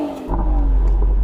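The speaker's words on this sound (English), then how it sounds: "Can you rev up your car, Sam?" An Aston Martin twin-turbo V12 revving, a deep rumbling roar that swells in sharply after a quieter start and holds loud and close to the end.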